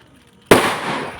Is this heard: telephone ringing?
no